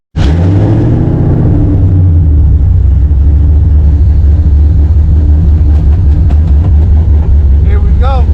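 A 2003 Ford Mustang SVT Cobra engine roars loudly and continuously from inside the car during a ride, a deep steady rumble that starts abruptly, with faint rattles and higher whines near the end.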